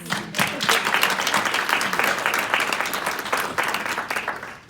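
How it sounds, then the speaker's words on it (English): Round of applause from a large audience of Latinx professionals and business leaders at an S&P Global leadership event, steady dense clapping sustained throughout at moderate loudness. "Give yourselves a round of applause."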